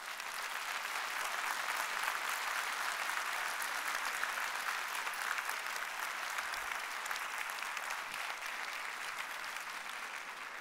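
Sustained applause from a crowd, dense and steady clapping that continues evenly for the whole stretch without pause.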